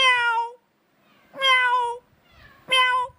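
A voice imitates a cat, giving three loud, close meows separated by short pauses.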